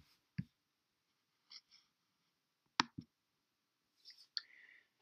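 Several sharp isolated mouse clicks sound close up in a quiet room while a file is opened, spaced irregularly with faint rustles and small taps between them, no talking.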